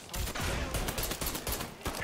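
Gunfire in the video game Mafia 3, a rapid burst of loud overlapping shots with crackling reports, continuous for about two seconds.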